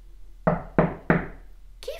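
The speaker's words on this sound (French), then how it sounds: "qui frappe à la porte?" Three firm knocks sound on a door, evenly spaced and close, followed by a brief voice.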